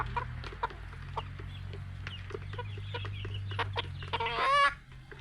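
Four-month-old Darag native chickens cluck in short repeated calls, close and moderately loud over a low steady hum, ending in a louder squawking burst.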